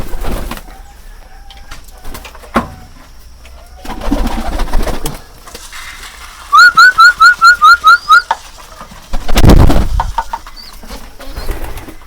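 Pigeons coo and call close by, including a rapid run of repeated whistling notes, with bursts of wing flapping and rustling in between.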